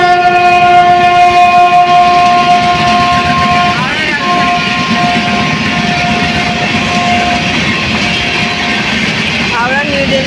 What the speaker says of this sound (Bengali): হাওড়া নিউ দিল্লি রাজধানী এক্সপ্রেস